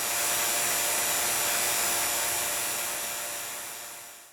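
A vacuum pump degassing pen blanks gives a steady, loud, broadband whooshing hum that holds constant, then gradually fades out near the end, with no talking.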